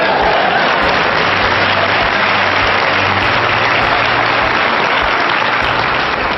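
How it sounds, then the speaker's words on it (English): An audience at a motivational lecture breaks into loud, sustained applause, a dense unbroken wall of clapping that stays strong throughout and is close and full. "Come on, clap."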